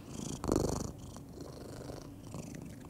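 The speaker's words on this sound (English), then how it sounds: "Can you hear him purring?" A cat purrs softly and close by, a low rumbling vibration that swells briefly near the start and then settles into a quiet, steady purr.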